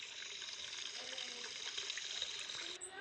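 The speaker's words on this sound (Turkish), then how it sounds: "Su da boşa akmasın" Water runs in a steady, continuous rush, like a tap flowing into a sink, in the Hello Neighbor video game. It stays close and fairly loud for the whole stretch.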